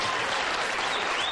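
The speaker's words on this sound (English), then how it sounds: "Maybe we could get the applause meter on Bob." Dense, steady applause from a television studio audience for Bob Hope, loud and continuous with no break across the short burst.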